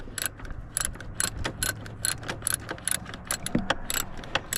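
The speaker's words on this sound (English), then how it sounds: "Not a lot of room in there to wrench it down, so it's going to take a little while, but it'll go." Socket wrench ratcheting a bolt on the oil tank of a Mercury Optimax 200 outboard, a rapid series of short metallic clicking strokes, close and fairly quiet, repeating in uneven bursts.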